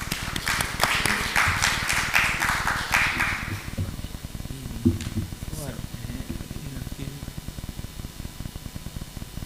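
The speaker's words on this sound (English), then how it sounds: "Can we get a round of applause for her?" An audience at a conference bursts into applause, a dense wash of clapping for several seconds that thins out into scattered claps and background voices.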